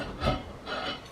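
A spoon stirs sugar into hot custard in a pan that has just come off the heat, making two short, soft scraping strokes close by.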